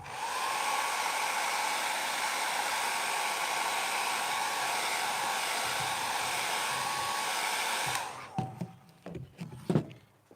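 A heat gun blows steadily and loudly for about eight seconds while warming vinyl wrap on a Nissan Y62 centre console, then shuts off, leaving a few faint handling knocks.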